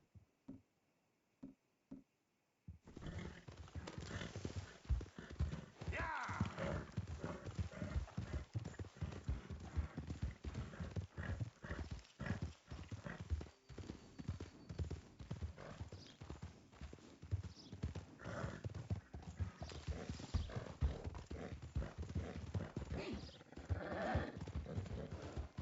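A horse gallops in Red Dead Redemption 2, dense rapid hoofbeats pounding continuously at close range after a brief quiet start, with occasional snorts and whinnies mixed in.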